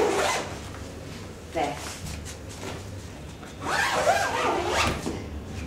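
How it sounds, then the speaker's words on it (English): The zipper gate of a Lollipop Lane Babidu travel cot being opened, a few rasping zip pulls in short bursts, close and moderately loud, with a brief spoken word at the start. "there's a zipper gate for them to crawl in and out very easily"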